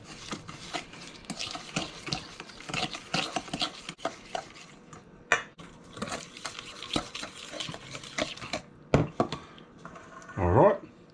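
A spoon mixes honey and a few drops of vanilla extract in a bowl for roasted peanuts, with irregular soft scraping and clinking taps, a few sharper knocks against the bowl near the end.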